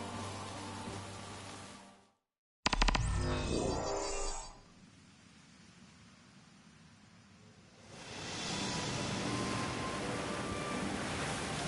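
A boat sails across sea waves in Final Fantasy XV, with a steady wash of water and hull noise. A brief dropout is followed by a louder splashing surge, then a calmer stretch before the waves swell again.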